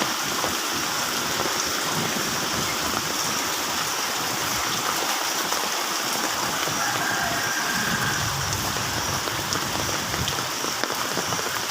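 Steady heavy rain pours down continuously over rural fields, a dense hiss of drops drumming on surfaces, with no voices heard.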